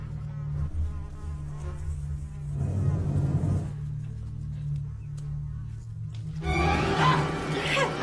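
Flies buzzing in a horror film scene heading into an underground cellar, a close, droning insect whine that swells and fades in bursts over low ambient rumble.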